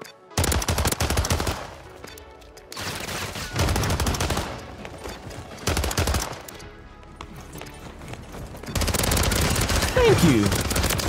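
Rapid automatic gunfire from a Warzone match, loud bursts of machine-gun fire separated by brief gaps, with voice chatter mixed in.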